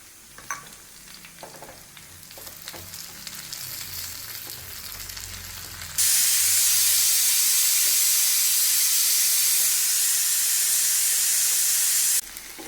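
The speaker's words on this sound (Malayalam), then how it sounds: "നമ്മുടെ ബീഫ് ഇരുന്നിങ്ങനെ വിസിലടിക്കുന്നു." A pressure cooker cooking beef on a stove, quiet cooking sounds at first, then a loud, steady, hissing whistle that holds for about six seconds before cutting off abruptly.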